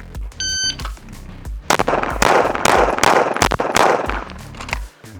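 Six rapid handgun shots fired at a target at 7 yards, after a short electronic timer beep, come as a loud, fast string of cracks with echoing reports.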